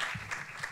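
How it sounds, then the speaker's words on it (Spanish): Brief burst of audience applause at an inauguration for tourism, Lago Martiánez and Puerto de la Cruz, a steady wash of clapping heard from within the room. "Un fuerte aplauso para él,"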